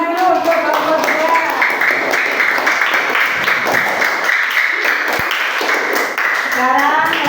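A class claps for a student group after its presentation, uneven and close-up, mixed with chatter and a few raised voices throughout.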